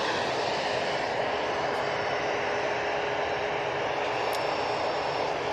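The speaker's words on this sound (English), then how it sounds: "Just about to land. We have the Aer Lingus coming in from JFK using an A330-300." An Aer Lingus Airbus A330-300 on final approach into Manchester Airport, arriving from JFK, makes a steady broadband jet roar with a faint high whine, holding at an even loudness throughout.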